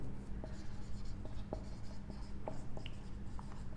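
Prime factors are written by hand during a maths lesson: continuous close, quiet pen-on-paper scratching with small taps and strokes, and no speech over it.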